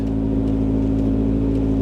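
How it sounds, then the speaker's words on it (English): A Square Body Chevy engine idles down steadily, a close, continuous low rumble with a smooth hum and no voices over it. "It's idling down like it's supposed to."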